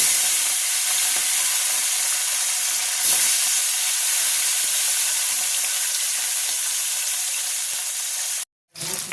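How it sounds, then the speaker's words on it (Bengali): Fish sizzle steadily in hot mustard oil in a pan, a continuous bright crackling hiss that holds for about eight seconds before cutting off abruptly. "এবার মাছগুলোকে আমি লাল লাল করে ভেজে নেব।"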